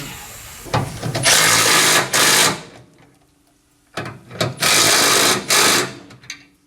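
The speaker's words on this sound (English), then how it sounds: "Let's check our yoke on that other shaft to make sure it's moving freely." A drive shaft yoke on an SRC fan is worked by hand, giving two close bursts of clattering, rattling metal movement separated by a quiet pause, with no talking.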